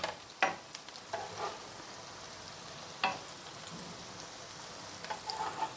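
Soya chunk cutlets shallow-fry in oil in a pan with a quiet, continuous sizzle and a few sharper pops or clinks now and then.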